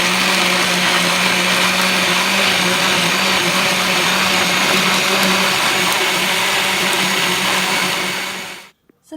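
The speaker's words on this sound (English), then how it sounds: "now everything is in the blender, so the next step is to blend" A countertop blender whirs loudly and steadily, blending banana and kiwi into a smoothie, holding a constant high-pitched motor drone for about eight seconds before cutting off abruptly.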